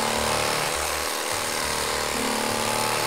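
An electric carving knife slicing through food gives off a steady, loud, chainsaw-like motor buzz that runs unbroken from start to finish, close to the mic.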